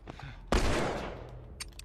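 A sudden burst of gunfire from The Last of Us erupts after a quiet moment, with a loud crack followed by sustained rattling shots and a decaying tail, then a few brief sharp clicks near the end.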